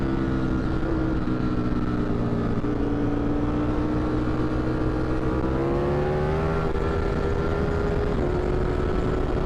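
A Ducati Streetfighter V4S motorcycle rides around a race track, its engine a steady, loud drone whose pitch climbs gradually as it accelerates, with no voices.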